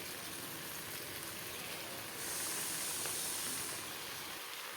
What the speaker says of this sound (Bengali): এখানে আগে থেকে কেটে রাখা কুমড়ো শাকগুলো ধুয়ে নিয়েছি পরিষ্কার করে। এবার আমি কড়ার মধ্যে দিয়ে দিচ্ছি।